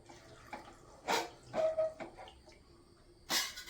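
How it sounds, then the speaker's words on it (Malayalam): Water splashes in a few short bursts into a pot of Chinese potatoes (koorka) being readied for a stir-fry, close by with quiet gaps between pours. "നമുക്ക് പാകത്തിന് ഇതിലേക്ക് വെള്ളം ഒഴിച്ചു കൊടുക്കാം"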